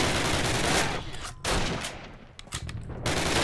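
Dense bursts of gunfire crackle from a World War II battle at Brecourt Manor in Call of Duty, loud and near in rapid clusters separated by brief lulls, with no talk over them.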